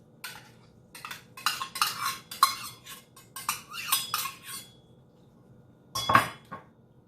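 Sautéed spinach stirred into rice in a metal pan, a close run of clinking, scraping spoon strokes in uneven bursts, then a pause and one final loud clank.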